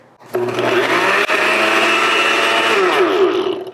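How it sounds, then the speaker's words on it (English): A food processor whirs steadily as it blends roasted garlic with olive oil, a loud continuous motor drone that starts abruptly, with a brief dip midway, then runs on before winding down. "My blender didn't work because I didn't have the one with the stick, but have this as a food processor"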